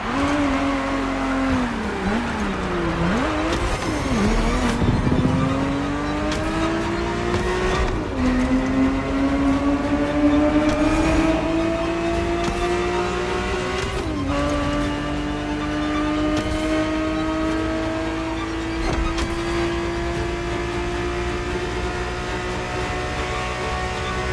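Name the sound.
race car engine and tires in video game The Crew Motorfest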